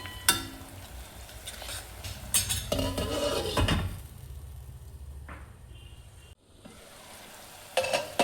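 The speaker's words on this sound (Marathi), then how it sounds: "आता याच्यात टाकणार आहोत आपण अद्रक, लसूण, ही सुद्धा तेलामध्ये होऊ द्यायची" Ginger and garlic fry in oil with spices and onions for a Nagpuri Saoji chicken, giving a close sizzle with clanking metal stirring and scraping against the pan, then a quieter stretch before more knocks.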